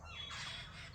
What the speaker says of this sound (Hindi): और अब आप इनकी चहचहाहट सुन सकते हैं